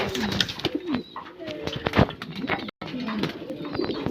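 White imported king pigeons cooing at a bird market, with repeated low throaty coos and some wing and shuffling sounds close by, and no talking.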